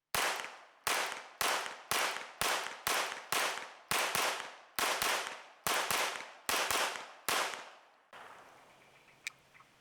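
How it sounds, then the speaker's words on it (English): An HK P30L LTT pistol with a compensator fires 124-grain rounds, a loud close string of about fourteen sharp shots in quick uneven rhythm, each ringing briefly before the next, then quiet outdoor air. "So let's take some shots here and see what it's like."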